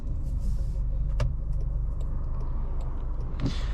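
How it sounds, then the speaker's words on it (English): A 2022 Jaguar E-Pace SE driving through a city, a low steady engine and road rumble from inside the cabin, with a few faint clicks and brief higher bursts near the end. "let's take this E-Pace for a little drive"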